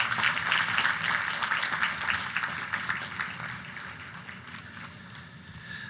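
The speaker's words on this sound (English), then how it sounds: "Another big round of applause for the families of Cheney, Goodman, and Schwerner, please." A college commencement audience applauds, a dense sustained wash of clapping that starts strong and gradually tapers off toward the end, heard without speech over it.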